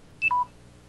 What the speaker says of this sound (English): What's that beeping noise?